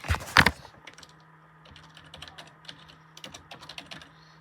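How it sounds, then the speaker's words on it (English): Someone types a name on a computer keyboard: a burst of quick loud clicks, then scattered lighter keystrokes in small clusters, close and clear against a faint steady hum. "you're gonna type your name real quick"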